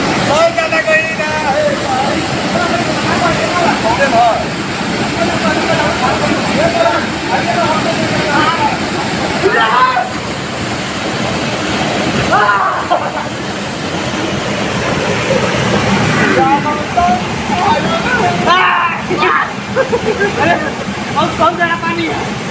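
A river waterfall in Nepal roars loudly and continuously throughout, a dense rushing wash of water with people talking over it.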